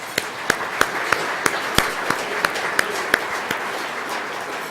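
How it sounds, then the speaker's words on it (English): Modest applause from a dinner audience at a school board distinguished alumni awards night, a thin bed of clapping with one close pair of hands striking sharp, regular claps roughly three times a second. "I want to give all of you an opportunity to applaud yourselves for supporting public"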